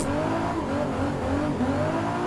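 A race car in Assetto Corsa on the Sunset Peninsula track holds a steady, close engine roar, its pitch wavering slightly as it drives.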